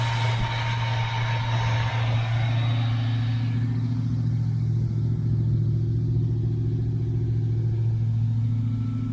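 A 1982 Chevy El Camino engine idles steadily up close, a smooth low rumble with a faint higher whine fading early on, running alone with no voices.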